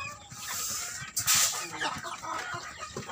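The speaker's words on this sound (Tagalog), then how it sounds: "Nagkagulo ng mga manok, oh." Chickens clucking and squawking in a noisy flurry, with a sharp burst of alarmed cries partway through, then continued agitated clucking close by.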